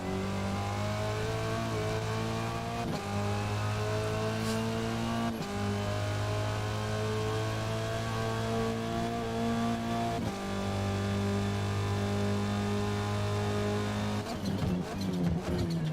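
An Audi touring car in a racing video game, its engine droning and revving steadily throughout with repeated gear-shift dips in pitch, loud and continuous with no talk.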